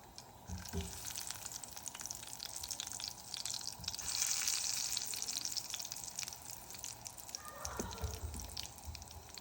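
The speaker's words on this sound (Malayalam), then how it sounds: "ഓരോ കട്ട്ലറ്റ് വീതം നമുക്ക് നല്ല ചൂടായ എണ്ണയിലിട്ട് നല്ല ഗോൾഡൻ കളറാകുന്നത് വരെ ഫ്രൈ ചെയ്തെടുക്കാം" Chicken cutlets deep frying one at a time in hot oil, a steady crackling sizzle that swells in the middle, close and fairly soft, with occasional clinks of a utensil and no talking.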